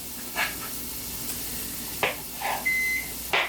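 Several short electronic beeps from a rice cooker signaling the rice is done, spaced irregularly over a low steady hum, with one longer tone near the end.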